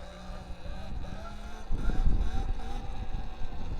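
Electric bike motor whine rising and falling as the throttle is worked through a wheelie, with wind buffeting the microphone and a louder surge midway, continuous and close.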